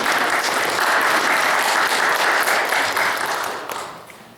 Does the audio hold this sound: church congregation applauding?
yes